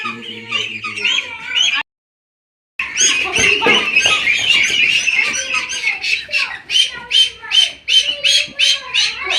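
Peking ducks on a farm giving repeated loud squawking calls close by, a steady overlapping chorus with a brief gap of silence near the start.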